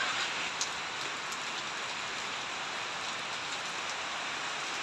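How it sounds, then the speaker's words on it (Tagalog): Rain falling outdoors, a steady dense hiss of drops on surfaces that is loud and unbroken throughout, with no voices. "Ayan po, maulan."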